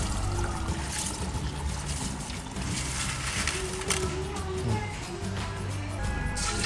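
Water pours and trickles steadily into a pot of washed rice for chicken biryani, a close, continuous liquid rush that runs for several seconds at moderate level.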